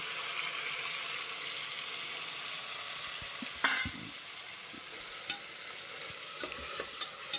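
Chopped tomatoes frying in oil in a pan for veg pulao, a soft steady sizzle with a few clinks of a spoon stirring, quiet and close.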